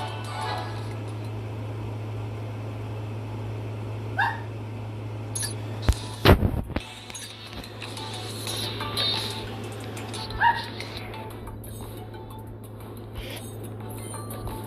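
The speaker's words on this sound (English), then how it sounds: "My dog's going crazy." A dog barks a few times in a room, with short excited yelps and whimpers in the middle, heard over a steady low hum with faint clinks.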